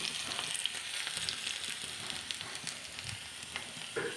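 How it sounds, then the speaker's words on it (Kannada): Garlic tempering sizzles and crackles steadily in hot oil with mustard seeds in a pan, a continuous close frying hiss with small pops scattered throughout. "ಅದಕ್ಕೆ ಬೆಳ್ಳುಳ್ಳಿಯ ಒಗ್ಗರಣೆಯನ್ನು ಹಾಕ್ತಾ ಇದ್ದೇನೆ"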